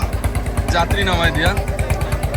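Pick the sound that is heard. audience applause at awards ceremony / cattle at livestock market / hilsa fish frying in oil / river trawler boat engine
river trawler boat engine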